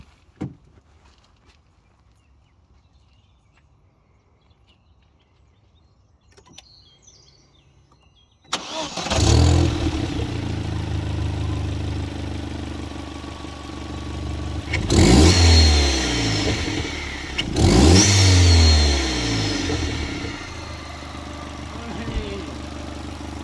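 A Vauxhall Corsa VXR fitted with a Halfords cone air filter sits quiet, then its engine starts abruptly and idles loudly, with two sharp revs rising and falling partway through, the intake hissing over the engine note.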